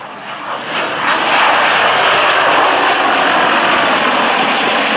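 A propeller aircraft performs a display flight at the Old Warden LAA airshow. Its engine drone rises quickly and then holds as a loud, steady roar that stays close for the whole stretch.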